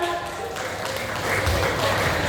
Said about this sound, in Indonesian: Boleh diberikan tepuk tangan lebih meriah lagi untuk Farida dan juga Sarah.